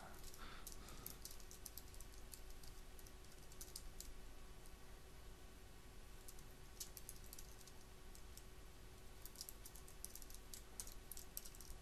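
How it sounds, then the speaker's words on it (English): Code is typed on a computer keyboard in quiet, irregular bursts of soft key clicks over a steady low hum, with no talking. "So I'm just going to write a little bit of code."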